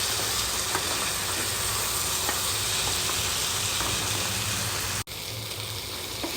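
Crab pieces sautéing in a pan for crab curry give a constant, loud hissing sizzle close up, with faint occasional scrapes of a spatula, uninterrupted by speech.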